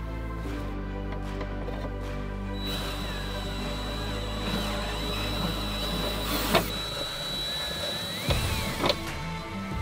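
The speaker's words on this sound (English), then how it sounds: "next up we gotta drill out these holes" A power drill whines steadily at close range, drilling 7/16 holes while fitting aluminum tube fenders, its motor pitch shifting slightly, with a few brief clunks near the end.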